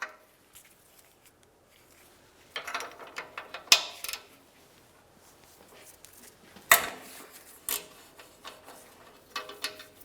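Socket ratchet loosening an O2 sensor from the catalytic converter pipe of a 2000-2006 Chevrolet Tahoe, with short bursts of quiet clicking and metallic clunks separated by near-silent gaps.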